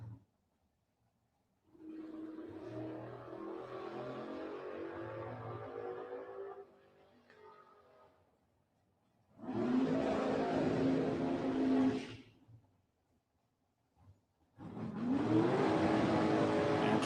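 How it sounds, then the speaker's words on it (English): A truck drag races down the Gainesville Raceway strip under power, in three separate engine bursts divided by silence, the later two louder and rougher, heard from a distance with no talk. "And Troy bringing that truck on down the racetrack."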